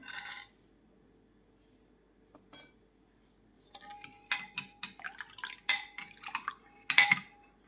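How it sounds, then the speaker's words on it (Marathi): Kokum juice poured and stirred into coconut milk for solkadhi: a brief clink, then a quiet spoon scraping and clinking against a bowl in irregular bursts with faint liquid splashes. "असं ढवळत राहायचंय रस घालताना."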